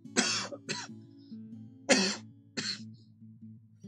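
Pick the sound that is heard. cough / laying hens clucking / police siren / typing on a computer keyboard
cough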